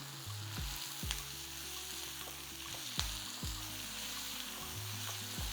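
Onions frying in a pan with salt and chili, a steady soft sizzle with a few sharp stirring knocks from a utensil, quiet and close with no talking.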